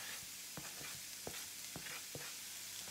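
Courgette tipped into a hot pan of onion and garlic gives a steady close sizzle, broken by sharp scraping and stirring knocks at irregular intervals, with no voices.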